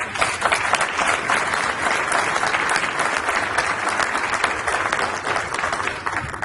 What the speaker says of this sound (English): you owe all of these people a great round of applause for that